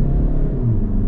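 A 2023 SEAT Leon FR+ with a 2-litre four-cylinder engine accelerates in sport mode, giving a steady, loud low engine rumble that runs unbroken through the moment with no talk over it.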